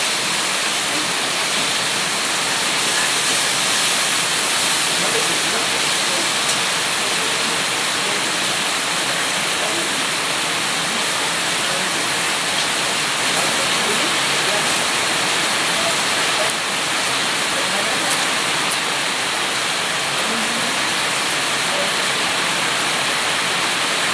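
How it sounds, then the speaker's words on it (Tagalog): Heavy rain pours in a dense, continuous hiss that holds steady for the whole stretch, loud and unbroken, with no voices heard. "Lakas ng ulan. Grabe, oh. Lakas ng ulan."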